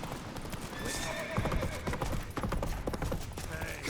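Horse hoofbeats clip-clopping at a gallop with a neigh in The Witcher 3: Wild Hunt on PS5, set against game ambience and music at moderate level.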